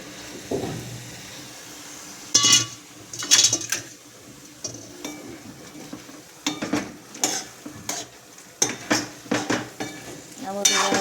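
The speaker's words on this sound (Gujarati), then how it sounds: "આ બધું બરાબર મિક્સ કરી દેવાનું છે." Tuver totha, a pigeon pea curry, is stirred in a pan, with repeated scraping strokes of a utensil against the metal over a soft, steady sizzle of frying food.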